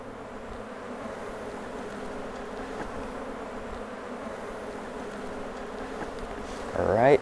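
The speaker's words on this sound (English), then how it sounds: "what we're seeing here is nurse bees hard at work maintaining the larva" A steady, dense buzzing of many honey bees inside a hive, nurse bees tending larvae, fills the clip, close and constant, with a brief louder rise at the very end.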